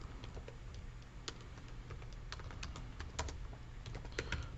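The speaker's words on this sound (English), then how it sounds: "So I'm going to type that it's the birthplace of" Steady clatter of keys on a computer keyboard, quiet irregular tapping with clustered keystrokes and short pauses, no voices.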